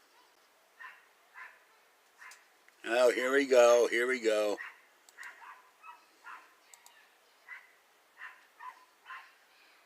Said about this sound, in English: I wish a dog would shut up.